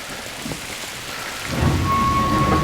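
Steady rain pours in the horror video game Bunker, and a low rumble of thunder rolls in partway through and grows louder beneath the constant downpour. No one talks.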